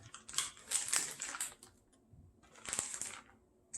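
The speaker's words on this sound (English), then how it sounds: "just gonna cut these bad boys up real quick" A knife chops food on a cutting board in quick, light taps, two short bursts of rapid cutting separated by a pause, fairly quiet and close.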